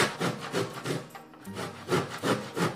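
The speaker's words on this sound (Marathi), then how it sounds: "झटपट आपलं हे खोबरं किसलं गेलंय" Dried coconut is grated by hand, a rhythmic rasping scrape repeating roughly every quarter second in close, moderately loud strokes with a brief pause midway, no voices.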